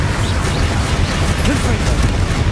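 Confringo and Bombarda spells explode in quick succession in Hogwarts Legacy, a brief, loud burst of booming magical blasts layered into a continuous roar of combat.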